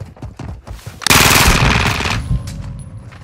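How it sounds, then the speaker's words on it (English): Tempest turret machine gun in a video game firing one loud, sustained burst of rapid shots for about a second, then trailing off. Quieter game sounds come before and after it. "now I'll be using this Tempest turret until I die"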